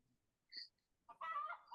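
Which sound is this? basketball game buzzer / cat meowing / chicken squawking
chicken squawking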